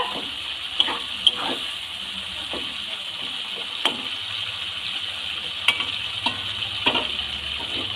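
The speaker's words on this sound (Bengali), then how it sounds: "মশলা দিয়ে টমেটোটাকে ভালো করে কষিয়ে নিচ্ছি" Tomatoes cooking down with spices in a pan for potato curry, a continuous soft sizzle broken by occasional sharp scrapes and taps of a spoon stirring, close by and without speech.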